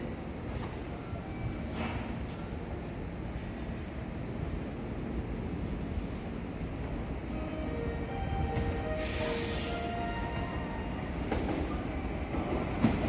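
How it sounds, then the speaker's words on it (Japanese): A commuter train pulls into platform 4 at Kanayama station in Japan, a low steady rumble of wheels and carriages rolling in, with faint squeals and a brief hiss near the middle, heard from the platform at moderate distance. "4番線電車鳴海方面に参ります。"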